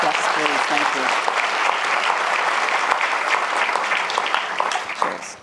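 Sustained, steady applause from a forum audience on immigration and DACA, dense clapping throughout from a large seated crowd.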